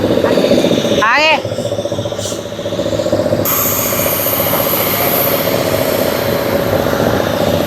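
A steady, droning engine hum fills an airliner cabin on an international IndiGo flight from India to Dubai, continuous and loud with a faint voice briefly over it.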